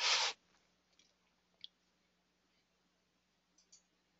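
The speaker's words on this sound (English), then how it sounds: "I can click that off the chart." Computer mouse clicks while removing a chart series in Excel, heard as a short burst of noise followed by a few faint, isolated clicks spread over a quiet background.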